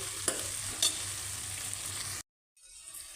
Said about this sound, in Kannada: ಎಲ್ಲ ಹಾಕಿ ಒಂದು ಮಿಕ್ಸ್ ಮಾಡಿ ಸ್ವಲ್ಪ ಎಣ್ಣೆಯಲ್ಲಿ ಫ್ರೈ ಆಗಬೇಕು